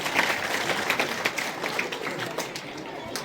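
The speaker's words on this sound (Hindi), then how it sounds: "ताली बजाकर उन दोनों बच्चों का स्वागत करते।" Applause for two students at a village school in India: dense, steady clapping from a gathered crowd of pupils and villagers, loud and continuous throughout.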